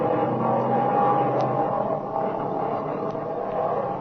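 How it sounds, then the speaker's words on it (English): An airplane engine runs steadily in an old radio adventure drama, a continuous droning hum with a smooth, even tone, heard alone without talk. "That engine's talking now like a lady sewing circle."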